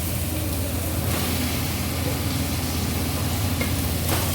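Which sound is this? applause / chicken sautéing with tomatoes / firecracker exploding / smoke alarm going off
chicken sautéing with tomatoes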